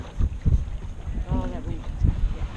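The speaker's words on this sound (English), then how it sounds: "Oh, that wind." Gusty wind buffets the microphone during a dragon boat race, low rumbling bursts coming and going, with a voice speaking briefly amid the noise.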